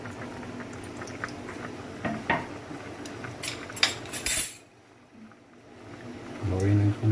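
A pot of squash and vegetables simmering in coconut milk is stirred with a utensil, giving a few clinks and scrapes against the metal over a low bubbling background, then a brief quiet pause.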